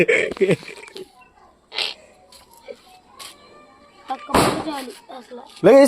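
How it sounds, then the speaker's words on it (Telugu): Several loud, sharp Diwali firecracker bangs burst out at irregular intervals, one echoing heavily, with voices and quiet gaps between blasts. "మామూలు సౌండ్ కాదు, దద్దరిల్లిపోతుంది చూడండి"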